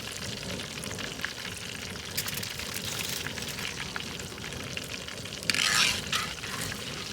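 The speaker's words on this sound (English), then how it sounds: "this mustard fried fish is going to be so delicious" Mustard-coated catfish pieces frying in hot oil in a jambalaya pot, giving a steady, dense sizzle and crackle close by, swelling briefly louder near the end.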